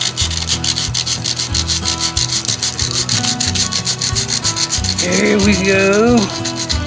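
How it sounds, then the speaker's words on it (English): Sandpaper is rubbed by hand over aluminum near a crack on an Evinrude 55 outboard part being prepared for brazing, loud, close, rhythmic back-and-forth strokes; someone speaks briefly. "Get a piece of sandpaper up in there."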